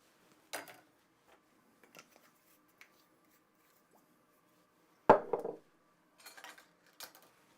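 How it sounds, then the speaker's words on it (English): A small whisk clinks against a bowl while mixing a sauce of soy sauce and mustard, a few faint, sparse metallic taps and scrapes with quiet gaps between them. "My little whisk."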